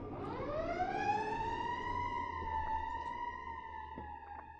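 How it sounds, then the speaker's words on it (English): A wailing siren sweeps upward and holds a steady tone, heard from some distance outside, fairly faint and alone. "I have a siren outside."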